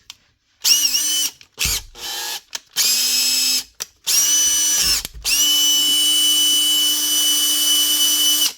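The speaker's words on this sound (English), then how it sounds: "it doesn't run very fast because this is a smaller Makita drill, this older one." A small, older Makita electric drill runs in several short bursts with gaps between them, then holds one long steady whine. The motor sounds close and loud, and no one speaks.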